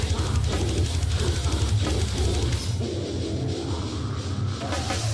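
Slam death metal band playing loud and dense, with heavy low-end guitars and pounding drums, continuous throughout, the texture thinning slightly in the second half.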